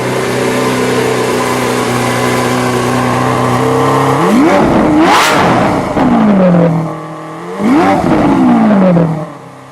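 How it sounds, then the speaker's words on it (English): A 2017 Lamborghini Aventador S idles loudly in Sport mode, then its exhaust is blipped twice, each rev rising sharply and falling back to a steady rumble, close up with no voices. "And then this is Sport mode with the exhaust."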